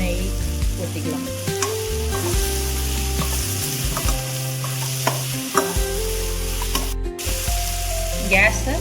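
Ghee rice in the making: ingredients sautéing in ghee sizzle and fry steadily while a spoon stirs and scrapes the pan in repeated strokes, close and continuous with no talk.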